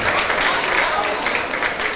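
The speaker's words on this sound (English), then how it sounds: "Clap that up." An audience at a ninth grade orientation claps steadily for two seconds, a continuous roomful of applause with crowd noise and a voice faintly underneath.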